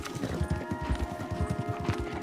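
Horse hooves clip-clop in a steady, brisk rhythm in Red Dead Redemption 2, close and distinct over a faint ambient hum.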